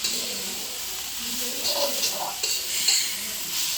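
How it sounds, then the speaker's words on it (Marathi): Vegetables sizzle and hiss as they are stirred in a hot iron pan, with scraping clinks of a spatula against the metal throughout. "मस्तपैकी आपली भाजी परतून झालेली आहे"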